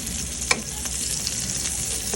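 Garlic sautés in hot oil for a kangkong stir-fry, giving a steady close sizzle with one sharp clink of a utensil early on.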